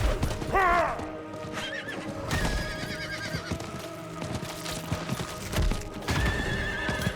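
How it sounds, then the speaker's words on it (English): A horse in the Diablo 4 video game neighs loudly, then its hooves clop steadily along with a second whinny near the end, close and clear with game music underneath. "Horse getting stuck on various objects, as usual."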